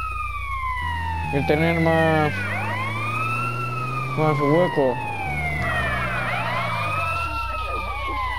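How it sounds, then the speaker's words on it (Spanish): Wailing ambulance siren in the video game GTA San Andreas, sweeping up and down continuously throughout at close range, with a deep vehicle rumble underneath and brief talk over it. "es mejor tener la sirena puesta para los coches, para que no nos dejen el pasar"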